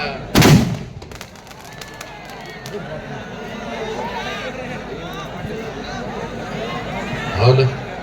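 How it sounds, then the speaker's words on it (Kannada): Firecrackers set off near a crowd: a loud, sharp bang right at the start and a second burst near the end. Between them, people talk and the crowd murmurs. "ಪಟಾಕಿ ಅವ್ರ ನೋಡ್ರಪ್ಪ ಹುಷಾರ್ಲೆ ಮಾಡ್ರಿ"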